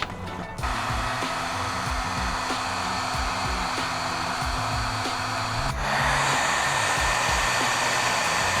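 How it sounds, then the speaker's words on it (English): A heat gun blows hot air in a steady, close, loud whoosh that shifts to a brighter, harsher tone partway through and then holds. "Heat gun."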